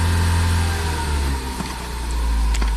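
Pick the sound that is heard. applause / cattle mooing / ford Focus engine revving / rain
ford Focus engine revving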